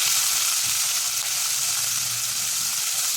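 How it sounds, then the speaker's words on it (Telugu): Mustard seeds, cumin and green chillies fry in hot peanut oil, giving a steady close sizzle and hiss with faint crackles throughout and no voices. "ఇందులో ఆవాలు జీలకర్ర పచ్చిమిరపకాయలు వేసి వేయించుకోవాలి"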